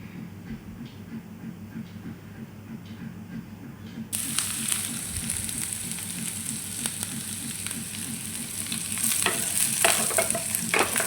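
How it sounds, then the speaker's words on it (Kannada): Onions and curry leaves fry in a pan for shavige upma, a steady sizzle that grows brighter and louder about a third of the way in, with no talk. "ಈರುಳ್ಳಿ ಸ್ವಲ್ಪ ಬಾಡಿಸಬೇಕು ಕೆಂಪಾಗಬೇಕು"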